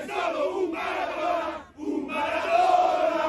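Hundreds of Napoli football fans gathered for the unveiling of a Maradona statue roar and chant together in a loud, sustained crowd swell, dipping briefly before rising again.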